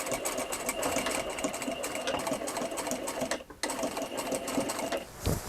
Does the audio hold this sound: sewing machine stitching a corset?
yes